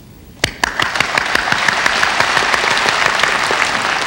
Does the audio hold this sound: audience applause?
yes